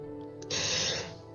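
A single close, sharp sneeze bursts out after a quick breath during a tabletop Dungeons & Dragons session, then stops abruptly.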